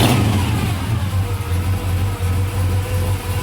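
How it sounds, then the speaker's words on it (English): A 400-cubic-inch V8 engine in a 1994 Chevy Silverado roars loudly and steadily up close, revving with a deep rumbling throb that swells and dips slightly. "Oh, he's gonna do a little revving on it."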